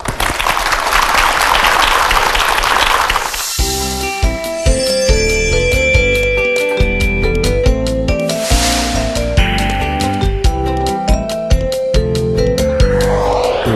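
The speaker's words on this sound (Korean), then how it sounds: "힘찬 박수로 강연 청해 드릴게요" An audience at a televised lecture applauds loudly for a few seconds, then the clapping stops and a bright piano-like melody begins playing.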